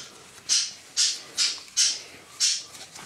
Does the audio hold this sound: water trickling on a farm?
no